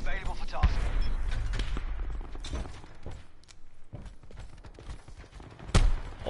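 A Call of Duty Black Ops 4 gunship killstreak fires heavy bursts overhead, with sharp booming impacts at the start and near the end and scattered shots between, while a player talks over the action.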